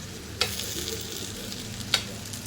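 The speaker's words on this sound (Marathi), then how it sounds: "मधीच लवकर भाजली जाते किंवा ती करपू नये म्हणून ही मिरची आपण मध्ये हलवत राहायचं" Stuffed bell peppers sizzle steadily in a pan while being stirred, with two sharp utensil scrapes breaking through the constant frying hiss.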